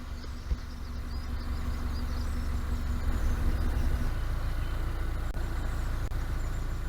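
A narrowboat engine chugs steadily at low revs as the boat creeps slowly along a London canal early in the morning, a continuous low rumble with a faint hum, no talk.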